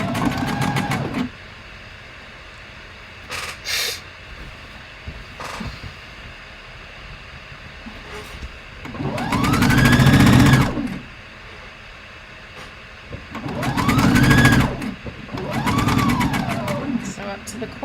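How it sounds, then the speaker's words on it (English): A household sewing machine stitches a playsuit seam in three distinct runs that rise and fall in speed, with someone talking between the bursts of stitching. "Sew up to the corner, turn the corner, sew over the strap."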